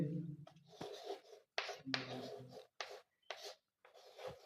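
Writing on a board during a class 8 maths lesson gives close, scratchy strokes in quick bursts separated by short pauses, with no talking over them.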